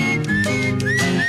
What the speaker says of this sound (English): Then you get the honky-tonk piano and the whistling.